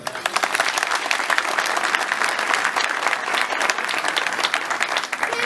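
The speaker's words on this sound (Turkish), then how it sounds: "Şimdi onları da bir alkışlayalım." Loud, sustained applause from an audience at an iftar dinner in Ankara, dense clapping continuing steadily throughout with a faint crowd murmur underneath.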